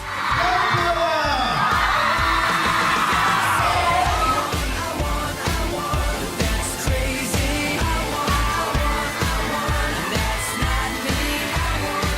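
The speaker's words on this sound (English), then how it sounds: "The girls have been screaming and falling" Girls scream and shriek loudly and continuously as a dense crowd at a One Direction event, with rhythmic stomping or clapping underneath and voices yelling throughout.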